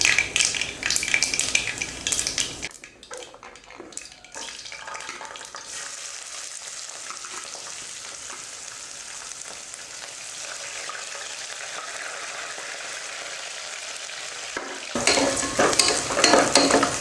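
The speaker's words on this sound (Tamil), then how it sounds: "குக்கரில் எண்ணெய் ஊற்றி எண்ணெய் காஞ்சிருச்சு. அதில் கடுகு உளுந்து, கொஞ்சம் ஜீரகம்" Mustard seeds, urad dal and cumin crackle and sizzle in hot oil inside a pressure cooker, with loud spattering at the start, a long steadier hiss through the middle, and a burst of bright popping at the end.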